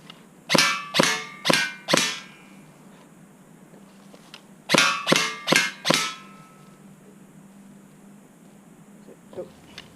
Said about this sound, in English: Let's move on to that Krytac PDW.